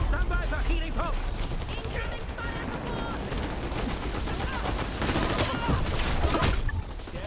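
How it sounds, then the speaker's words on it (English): Dense, continuous gunfire in the online shooter Dirty Bomb, overlapping shots and automatic bursts forming a loud, nearly unbroken clatter, with faint voices occasionally surfacing underneath. "I am taking fire."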